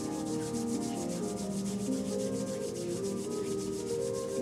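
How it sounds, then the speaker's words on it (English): Palms rubbing briskly together in a chair yoga session, a steady rhythmic swishing friction close to the ear, continuous and alone. "rub palms together to feel warm energy in the palms of our hands"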